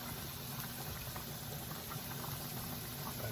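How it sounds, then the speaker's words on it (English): Cream comes to a gentle boil in a pot for chicken broccoli Alfredo, giving a faint, steady bubbling and fine crackle that carries on evenly throughout with no talking. "Now the cream is starting to come to a little bit of a boil here."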